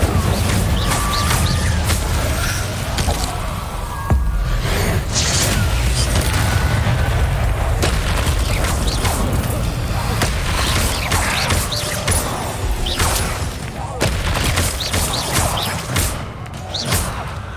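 Incendio fire spell blasts in the Hogwarts Legacy video game, a dense, continuous run of booming, thudding impacts and bursts that stays loud throughout over a busy background of game effects.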